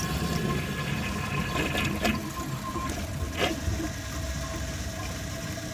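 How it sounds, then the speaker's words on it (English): A round 2016 ProFlo Gilpin toilet, jammed on its fourth flush, rushes and gurgles steadily with water running, a couple of sharp knocks standing out in the middle. "Fourth flush."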